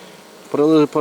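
Honeybees buzz near a hive in winter, a quiet start giving way to a close, loud buzz from one bee that cuts off briefly and then resumes.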